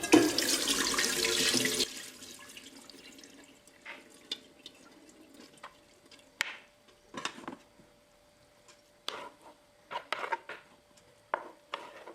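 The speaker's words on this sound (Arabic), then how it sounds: "كنصفيها من الماء ديالها" Boiled vermicelli for Moroccan seffa being drained of its water: a brief rush of pouring water at the start, then scattered drips, taps and light clatter of a strainer and pot, close and fairly quiet, with no speech.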